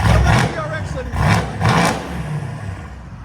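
Mercedes C63 S AMG with a 4.0L twin-turbo V8 and catless straight-pipe exhaust, loud revving in several rising bursts, heard up close with people talking over it.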